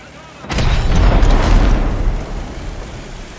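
A War Thunder tank cannon fires with a sudden heavy boom, then a loud, dull, muffled roar and ringing that slowly fades, giving the deafened effect after the shot.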